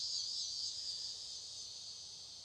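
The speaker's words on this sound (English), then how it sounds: "Cicadas." Cicadas drone in a constant high, shrill buzz that holds steady throughout, fairly faint and alone with no voices.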